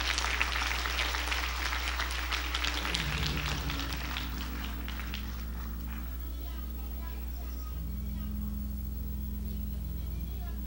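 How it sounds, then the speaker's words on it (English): Dense clapping from a church congregation fills the first few seconds, then thins out beneath a steady low hum and murmuring voices. "Clap your hands for the victory."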